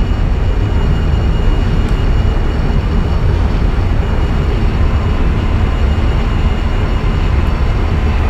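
A steady, loud, continuous rumble of a train running in an Indian railway simulator game, an express pulling LHP coaches, plays on its own with no talking.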